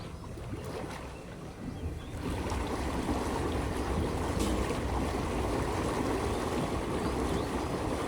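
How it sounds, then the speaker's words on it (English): Air bubbles rise through the seat of a jacuzzi-style swimming pool in Thailand. A faint murmur swells after about two seconds into a steady, loud, broad rushing and bubbling that carries on without a break. No one speaks. "that is now the air bubbles on the seat"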